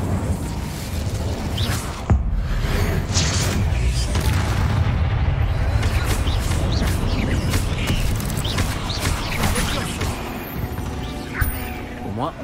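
Explosive Confringo spell blasts in Hogwarts Legacy, a sharp boom early on followed by crackling, rumbling effects and scattered impacts under continuous game ambience.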